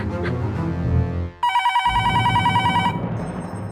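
A telephone rings with a rapid trilling electronic bell after a brief voice, the ring pulsing in quick repeated bursts before cutting off.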